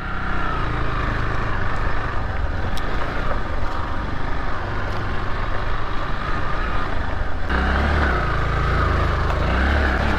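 A motorbike engine straining uphill near Chitram waterfall in Chitwan, a continuous loud, rough low drone that holds steady and deepens toward the end.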